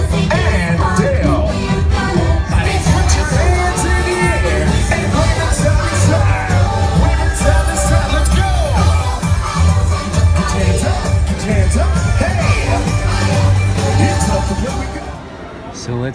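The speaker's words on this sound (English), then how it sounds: "I want everybody to scream and shout for 2 Original Rescue Rangers. Make some noise for Chip and Dale" A loud crowd at Magic Kingdom screams and cheers for Chip and Dale, a dense sustained roar of many voices over a pounding beat that stays high for about fourteen seconds, then drops off.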